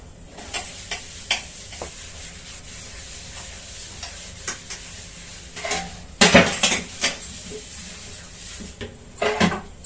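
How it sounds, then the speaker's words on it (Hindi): Dishes and cutlery clatter and scrape in irregular bursts, with a busier cluster of clanks midway and more near the end, no voices. "बर्तन साफ करने हैं"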